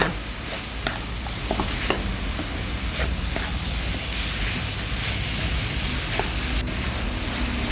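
Minced pork stir-fries in a hot pan, giving a continuous crackling sizzle with a few sharper spatula taps and scrapes, close and fairly loud, with no talking.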